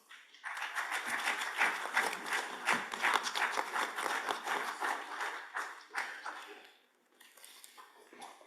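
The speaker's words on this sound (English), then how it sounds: "Let's welcome the dignitaries with a huge round of applause." A large audience at an international legal conference gives a sustained round of applause welcoming dignitaries, dense clapping lasting several seconds, briefly dipping before a smaller burst of clapping resumes.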